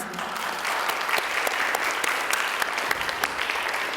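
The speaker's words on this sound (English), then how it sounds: "let's give them one more round of applause" An audience at a university pageant gives a round of applause, dense continuous clapping at steady loudness throughout, with no voices over it.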